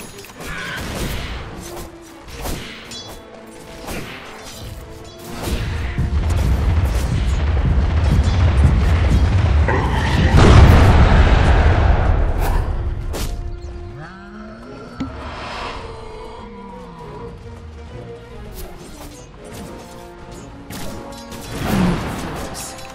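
Dota 2 battle sounds erupt as a tower comes under attack, with repeated booms, crashes and impacts in dense layers, a sustained loud swell through the middle, and creature-like roars and cries between the hits.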